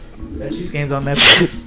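A single sharp sneeze bursts out near the end of a short stretch of casual conversation, following someone speaking.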